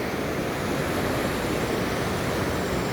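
Ocean surf breaking in front of a beach campsite, a steady broadband wash of waves heard close and fairly soft, with no voices.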